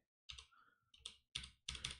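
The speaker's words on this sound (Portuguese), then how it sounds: "Você pode apertar no teclado Ctrl Z." Four quick clicking keystrokes on a computer keyboard, close and crisp, spaced unevenly with near silence between them.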